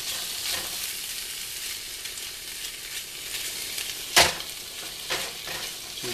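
Food sizzling steadily in a pan while being stirred, a soft constant hiss of frying with a sharp clack of utensil against pan near the end and a fainter knock after.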